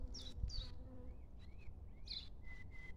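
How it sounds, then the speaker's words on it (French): Bees buzz around flowering pink winter savory (Satureja montana), a faint, steady hum close by, with a few thin bird chirps over it. "On peut observer aussi quelques abeilles qui viennent se régaler."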